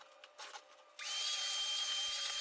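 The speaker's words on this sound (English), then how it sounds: "I used wood screws to secure the work surface into the ledger board at the back and the structural frames" A power drill driving wood screws through a work surface into a ledger board and structural frames on a DIY mitre saw station, a few short scraping bursts followed by the motor spinning up into a loud, steady whine.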